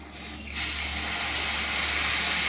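Water poured from a container straight into a pan of capsicum paneer curry, a steady hissing splash that starts abruptly and keeps flowing, close and fairly loud.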